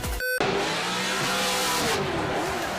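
A drift car at full throttle in qualifying at the New Zealand Drift Championship in Tairāwhiti, a loud sustained engine roar with tire noise after a brief cut, close and steady throughout.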